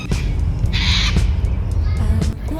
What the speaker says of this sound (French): Irène, c'est un perroquet.